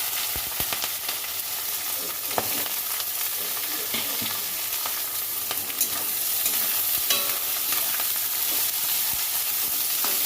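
Cauliflower stems frying in oil in a pan with green chillies give a dense, constant sizzle and crackle, close and even, with occasional stirring clicks and no talking.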